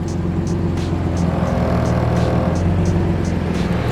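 A Nissan G35 with solid engine mounts, coilovers and a welded differential drives on the street, its engine droning loudly and continuously with a rough, buzzy resonance and no speech.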